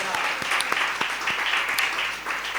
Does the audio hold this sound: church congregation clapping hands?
yes